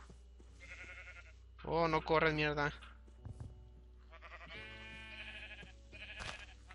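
A Minecraft sheep bleats several times in wavering, nasal calls, the loudest burst near the middle, while someone speaks Spanish between and over the bleats.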